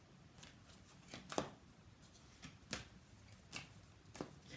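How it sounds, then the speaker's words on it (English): Tarot cards being shuffled by hand in a quiet room, a soft papery riffle with several sharp slaps and snaps spaced irregularly across the clip, close and fairly faint. "So I'm going to keep shuffling yet."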